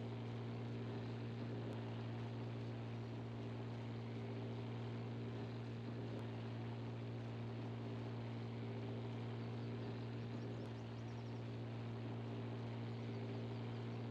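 A tractor pulls a silage loading wagon, its engine a steady low droning hum with strong tonal bands, continuous and moderately distant throughout with no talking.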